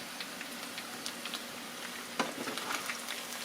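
Potatoes fry in a pan with a continuous soft sizzle and scattered small pops and crackles, heard close up and fairly quiet, with no voices.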